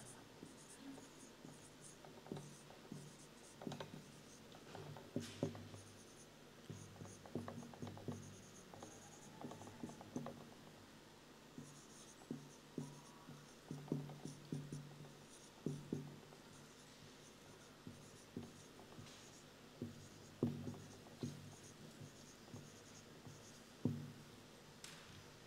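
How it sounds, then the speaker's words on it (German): A marker or pen writes on a board during a church talk in Basel, soft scratchy strokes in short irregular bursts with pauses between words, quiet and close. "Und ich probiere jetzt das wirklich mal da drauf zu schreiben."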